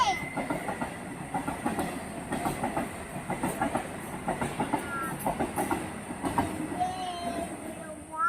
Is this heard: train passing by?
yes